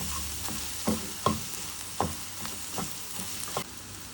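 An egg fries in a pan for chicken fried rice, giving a steady low sizzle broken by several sharp scrapes and taps of a spatula stirring it, close and alone.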